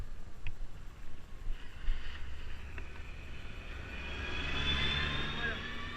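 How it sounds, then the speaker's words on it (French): A tractor drives past on a rural track, its engine rumble swelling from faint to a louder, closer drone over several seconds, with wind noise and someone speaking briefly early on. "il y a le tracteur qui va passer, on va le laisser passer"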